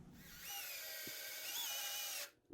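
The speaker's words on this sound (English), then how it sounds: "And now I'm going to put in my screws." A power drill drives screws down into a wooden 4x4 post, a steady high whine that holds for about two seconds and then cuts off, close and loud.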